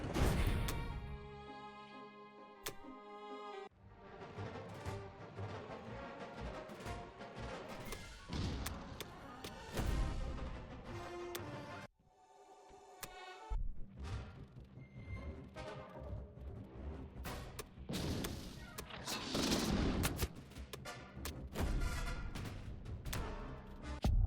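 Combat in the online strategy game Axis and Allies 1942 Online, with a battleship, aircraft carrier and fighters engaged: loud, dense booming thuds and crashing blasts over a musical bed, continuing throughout with brief lulls.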